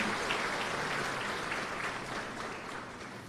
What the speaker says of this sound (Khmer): សូមអង្គពិធីទាំងមូលមេត្តាអបអរសាទរ